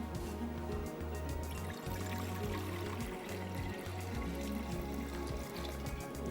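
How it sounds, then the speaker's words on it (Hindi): Water poured steadily into a metal cooking pot on the stove for badami handi, a continuous soft splashing fill heard close and alone over a low background hum. "इसमें जाएगा पानी।"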